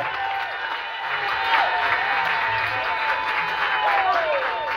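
A crowd applauds at an outdoor political campaign gathering in a Libreville neighborhood, steady clapping mixed with cheering and some high whistling tones.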